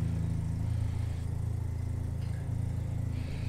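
A heavily modified 1996 BMW Z3 engine idles steadily while warming up, a low, even, close rumble with a faint pulsing beat and no revving.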